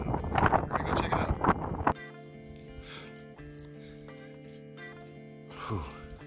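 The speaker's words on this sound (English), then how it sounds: "It's a little windy if you can't tell." Gusty wind in Death Valley roars against the microphone for about two seconds, then gives way to a steady, quieter hum with faint rustling.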